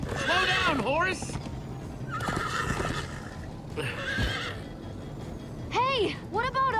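A horse in Minecraft whinnies loudly several times in rising and falling cries, with hoofbeats clip-clopping underneath and some talking mixed in.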